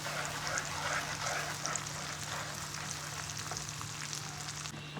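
Tomatoes and ginger-garlic paste fry in a pan for daal mash, giving a steady, soft, continuous sizzle with faint crackles throughout.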